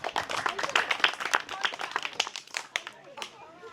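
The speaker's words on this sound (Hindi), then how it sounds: "बाबूजी के लिए सभी ताली बजाएंगे।" An audience claps together in a spiritual meditation gathering, a dense, fairly close patter of hand claps that thins and fades toward the end.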